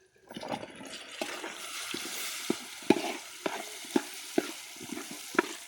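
Eggplant pieces fry with an onion-tomato base in a pan, a low bubbling sizzle broken by a series of sharp spoon knocks and scrapes as the mixture is stirred, fairly quiet and close.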